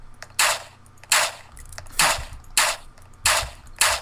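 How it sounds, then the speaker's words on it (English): Gunshots in the Roblox game Apocalypse Rising, five sharp reports at a steady pace of roughly one every 0.7 seconds. They ring loud and close over a low background hum. "they're shooting a guy over there"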